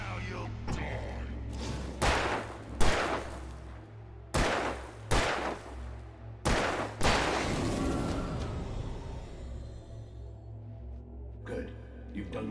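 Gunfire in Alan Wake Remastered, a string of sharp, loud shots spaced irregularly with heavy booming tails, several in quick succession and a few isolated blasts near the end.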